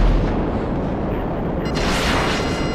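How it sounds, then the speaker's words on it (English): Cannons firing in the video game GTA 5, a dense roaring wall of booming blasts that stays loud throughout, with a bright burst of crackling noise swelling near the end. "those are cannons. Those are definitely cannons."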